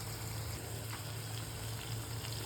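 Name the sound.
hot water being poured into eggplant curry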